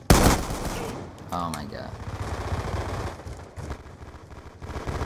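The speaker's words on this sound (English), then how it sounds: "How does he fucking shoot me with an M1216" Bursts of shotgun fire from an M1216 in a first-person shooter match, loud and continuous with heavy clutter, mixed with excited voices shouting and talking over the shots.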